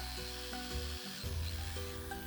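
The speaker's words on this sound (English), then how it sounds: "And then proceeded to drill 5 holes into each plank" Power drill boring holes into wooden planks, several per plank, a steady whirring drone that shifts pitch as the bit bites and eases, close and fairly loud with no talk.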